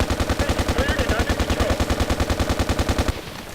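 An L85A2 rifle fires full-auto in Battlefield Play4Free, one long, steady, rapid burst of loud close gunshots lasting about three seconds and then cutting off abruptly.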